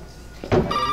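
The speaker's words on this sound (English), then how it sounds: "Answer the phone." Telephone ringing inside the survival horror game Resident Evil 7, a single ring tone beginning partway through and holding steady, fairly close and clear with no talk over it.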